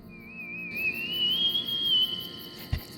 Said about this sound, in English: It was a spooky whistle.